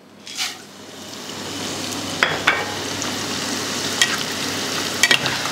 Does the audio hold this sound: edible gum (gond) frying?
yes